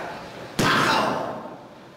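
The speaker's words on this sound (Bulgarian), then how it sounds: "Значи, завъртам се, скачам и ритам с крака." A taekwondo spinning jump kick ends in a single loud slam-like landing thud, sharp and close, followed by a short reverberant decay in an indoor space.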